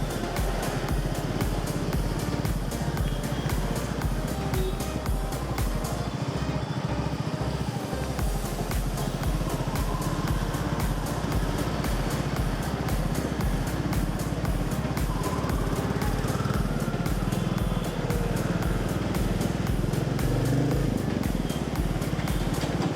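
Royal Enfield Meteor motorcycle riding through Bangalore streets, a steady, throbbing single-cylinder engine rumble with fast pulsing exhaust beats and wind noise, continuous throughout with no talking.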